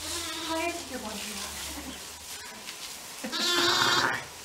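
Lambs and ewes bleat in a barn during winter lambing. Several close, wavering bleats come at the start and a louder one near the end, with a person talking between them.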